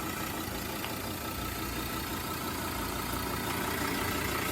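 An ARB single air compressor wired to the battery inflates a tyre, giving a steady, even mechanical drone that runs unbroken throughout, with no voices.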